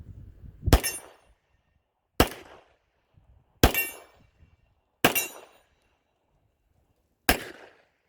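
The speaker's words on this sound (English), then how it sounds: "let's see if we can hit that steel" Five sharp gunshots from cast-bullet loads fired at a steel target about 15 to 18 yards away, spaced a second or more apart, each a loud crack with a short metallic ringing tail; no talking.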